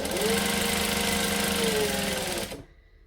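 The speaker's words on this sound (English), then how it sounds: "Now I'm just folding it over and stitching it." A sewing machine runs steadily, stitching a folded-over fabric hem while a McCall's M7314 dress is made, with a constant close whir that stops abruptly near the end.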